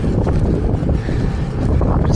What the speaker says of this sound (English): it's bloody windy, but it's not cold, so it's a warm wind